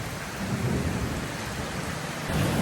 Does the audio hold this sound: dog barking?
no